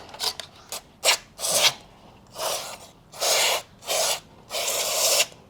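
Harsh, rasping scrubbing strokes cleaning a Triumph 400 motorcycle's chain sprocket, in uneven bursts, close by, each stroke a gritty scrape with short pauses between.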